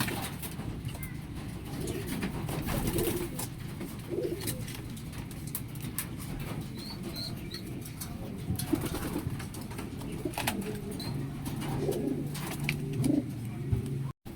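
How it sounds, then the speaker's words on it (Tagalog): Pigeons coo softly and repeatedly against steady outdoor background noise, with occasional faint chirps and rustling. "yung mga ibon natin"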